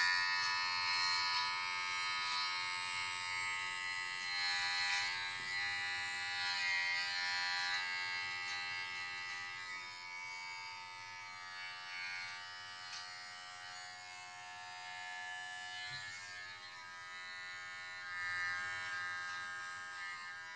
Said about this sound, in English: So I just tend to use the normal shaver part on it.